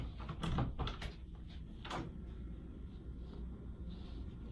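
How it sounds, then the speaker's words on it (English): A home door swings open at shoulder-level anchor height, giving a few close knocks and a brief creak or latch rattle early on, then quiet room tone with faint shuffling. "I'm just going to open the door here."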